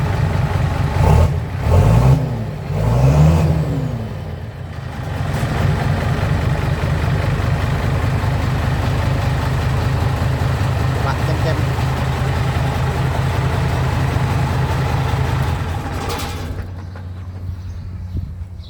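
An old Nissan UD dump truck diesel engine idles with a low, steady rumble for most of the clip, after a few louder knocks and revs at the start.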